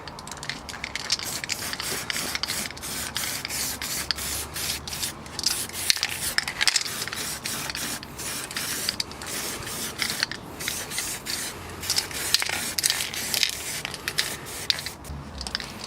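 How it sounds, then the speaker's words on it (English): Hissing aerosol spray of zinc primer on a car chassis rail and cross beam, in short and long bursts, fairly close, with faint rubbing and handling noises between sprays. "So it's time for the spray."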